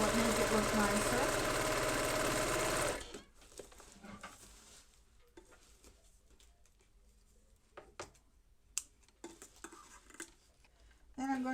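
A sewing machine runs steadily for about three seconds, stitching along the edge of a ribbon on a tote bag, then stops, leaving faint handling clicks and rustles.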